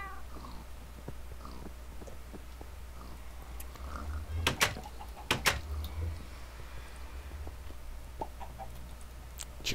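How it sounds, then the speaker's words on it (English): A Minecraft chicken lays an egg, giving a couple of short popping clucks and plops around the middle, faint over a low steady hum and light game sounds. "Chicken popping an egg."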